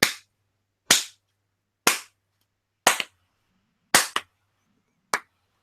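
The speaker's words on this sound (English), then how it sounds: "that's about as much of a golf clap as I can stand" A slow, sparse golf clap: six single sharp claps spaced about a second apart, one or two with a quick second tap, each ringing briefly into silence.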